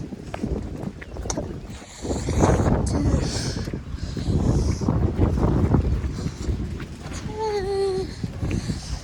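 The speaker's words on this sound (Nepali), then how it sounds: "हावा चाहिँ चल्दैछ है" Strong gusting wind sweeps across a maize field, flattening the plants, as a steady broadband roar that swells and eases in waves, with a few faint bird-like chirps near the end.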